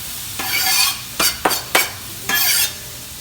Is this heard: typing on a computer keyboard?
no